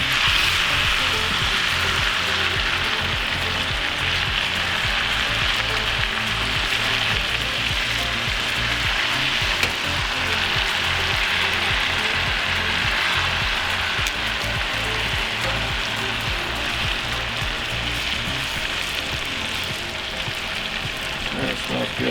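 Steak pieces sizzle loudly in butter in a pan, a dense, continuous crackling fry held close and unbroken throughout with no voices.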